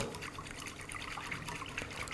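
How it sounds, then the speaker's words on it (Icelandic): Freshly boiled water trickles and splashes softly as it is poured over lamb stock, a faint, continuous liquid sound for about two seconds. "Hérna er ég bara með lambakraft í smávegis af vatni."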